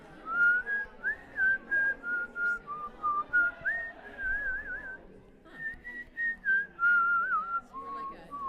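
Singers at a women's community chorus rehearsal whistle a chorus tune. The melody runs continuously in clear, wavering phrases, close and fairly loud, and no one talks.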